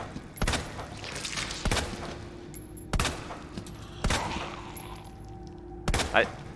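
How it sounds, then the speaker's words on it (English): Five heavy handgun shots fired at a zombie in Resident Evil, Leon's hardcore run, ring out one at a time at roughly one-second intervals, each a loud sharp crack over a low steady game drone. "I believe I shoot the knee of this zombie"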